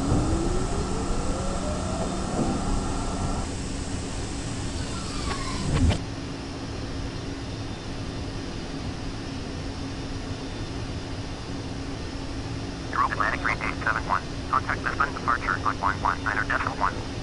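A Lockheed TriStar airliner roars through its takeoff run and climb, heard from inside the cabin as a loud steady jet rumble with a rising whine, a cockpit callout, then radio-style chatter near the end.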